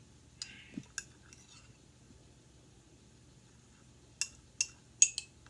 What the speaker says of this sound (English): So I'm stirring.